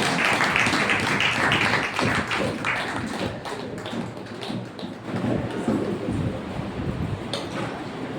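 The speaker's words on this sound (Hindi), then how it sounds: "आइए जोरदार ताली के द्वारा उसका स्वागत करें" A church congregation claps loudly to welcome Apostle Dhiraj Suryavanshi at a Sunday sermon. The clapping is dense and sharp, dips briefly midway, then swells again.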